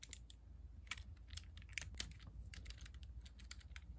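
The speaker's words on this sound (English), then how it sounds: "And now it's ratcheting the other way." Rapid plastic clicks from a LEGO ratchet wrench turning a LEGO nut and bolt, a steady run of light, close ticks with a few sharper snaps, heard alone.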